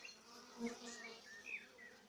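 Dense, steady buzzing from many honeybees at a Warré hive, close and moderately quiet, with faint tonal whines drifting in and out.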